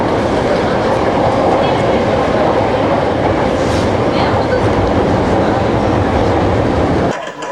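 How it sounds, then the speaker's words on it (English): Inside a Japanese bullet train, a loud steady rumble of wheels on rails fills the cabin with a broad roar and faint clatter, continuous until a sudden drop near the end. "It's our first bullet train, Matt, huh?"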